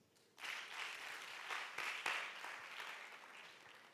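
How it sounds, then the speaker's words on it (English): A conference audience bursts into a round of applause after a short quiet lead-in; the clapping swells quickly, stays full and steady, then eases slightly toward the end. "now let's give a round of applause like we really mean it"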